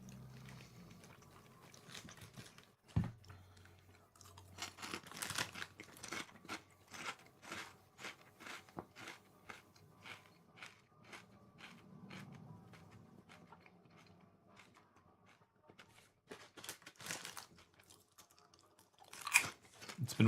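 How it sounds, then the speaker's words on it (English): Crisps being eaten at close range, with repeated crunchy chewing bites in irregular bursts and a few louder crackles, no talking over it. "I'll be here eating my crisps"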